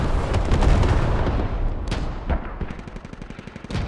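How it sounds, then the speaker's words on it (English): Artillery fire in the military shooter Squad: heavy booming blasts and rumbling explosions, loud and dense at first, then a crackling run of rapid shots and impacts as the barrage continues. "Why are you using artillery like this?"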